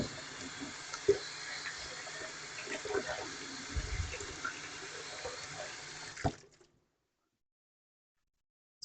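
Water runs steadily from a kitchen tap while hands are washed during meal prep, fairly quiet with small splashes and clinks, then stops abruptly.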